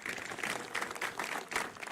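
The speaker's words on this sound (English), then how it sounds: "Start clapping and don't stop until Doberstein appears." A crowd at an airport event claps continuously in a dense, steady burst of applause, with a few louder swells.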